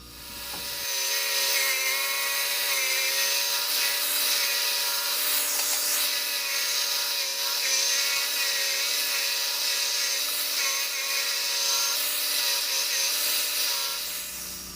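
A drum sander grinds down wood for a homemade lantern vise, a steady loud whirring hum with gritty sanding hiss that runs continuously for about thirteen seconds before cutting off.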